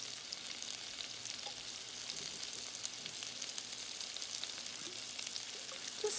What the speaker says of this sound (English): Gonna saute them for a little bit. Oh yeah, I'm gonna put just a little bit more of the grapeseed oil in here.